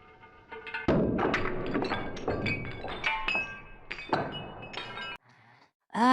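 A glass bulb shatters as a powerful handheld laser pops it: a sharp burst of breaking glass followed by a rapid scatter of clinks and tinkling fragments, close and loud, then a brief quiet before another crack.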